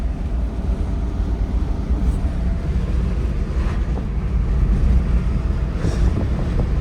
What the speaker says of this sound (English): The wind's kicking me.